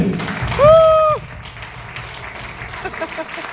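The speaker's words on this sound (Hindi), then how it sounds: "एक बार सबके लिए जोरदार ताली।" At a business seminar, a short voiced call is followed by scattered audience clapping of moderate loudness, with a slightly busier stretch of claps toward the end.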